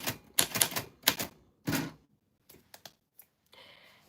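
Manual typewriter keys strike in quick bursts of several clacks, then a pause and a few sparse, separate taps, ending in a short ringing bell or carriage sound; close and alone, with no talk.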